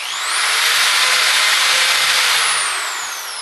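A power drill whines steadily as a pilot bit bores into wood, loud and close, holding a continuous high-pitched tone for a few seconds before easing off.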